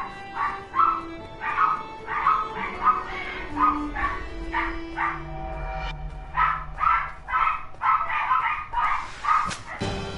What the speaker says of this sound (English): Just ignore my dogs. They're always this wild whenever someone visits.